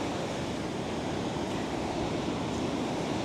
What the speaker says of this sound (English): These waves are very loud, the waves.